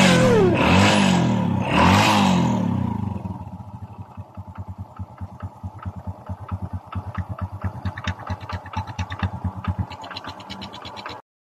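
A rebuilt Honda XRM 125 carburetor motorcycle engine, reassembled after side bearing work, revs loudly at first, then settles into a steady, close, rhythmic idle with even firing pulses and no talk.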